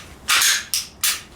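A Glock pistol fitted with an Apex enhanced trigger fires three loud, sharp shots in quick succession at steel targets on a shooting range, with no voices.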